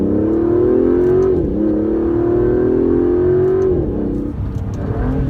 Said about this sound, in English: if you really floor it, you can feel the turbos kick on